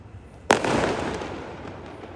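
A single loud firecracker bursts during Diwali celebrations in Bangalore, a sharp bang with a long echoing decay that fades over the next second and a half.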